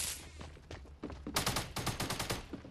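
Rapid bursts of gunfire in the Fortnite battle royale, a dense volley of close, loud shots that starts steady and turns into sharp, evenly spaced cracks in the second half, with no talking.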